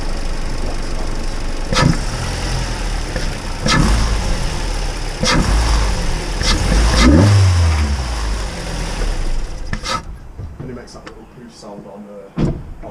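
A Suzuki Swift Sport engine fitted with a foam cone ram-air intake cranks and catches, then revs up and down with throaty intake noise several times before settling; a door thud and brief voices follow near the end.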